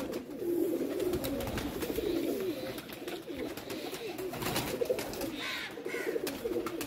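Pet pigeons in a Pakistani pigeon-keeping loft coo in soft, overlapping rolling calls at close range, with wing flutters and light bird rustling throughout.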